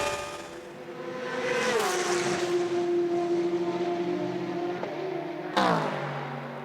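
Ferrari and Porsche endurance race cars in a 6 Hours of Spa-Francorchamps WEC race, a loud high engine note rising then holding steady as a car approaches, with a second sharp engine surge passing close near the end.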